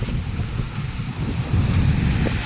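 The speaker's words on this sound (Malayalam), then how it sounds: "കടലോളം കണ്ട നല്ല ഹൈറ്റിനാണ് തിരമാലയൊക്കെ അടിക്കുന്നത്" Sea waves crash steadily against a broken sea wall at Njarakkal, Vypin, a continuous rumbling surf with gusts of wind buffeting the microphone and no voices.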